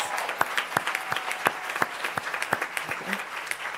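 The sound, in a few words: applause at board meeting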